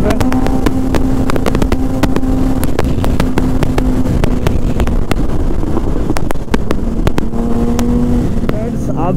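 Sport motorcycles racing, a Kawasaki ZX10R and a Bajaj Dominar, on a foggy road, with a steady loud engine drone mixed with rushing wind buffeting the microphone throughout.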